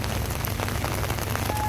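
Steady rain patters on a surface with a dense, even hiss of drops, close and continuous.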